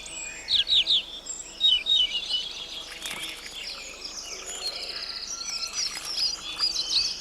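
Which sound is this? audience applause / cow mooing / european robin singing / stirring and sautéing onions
european robin singing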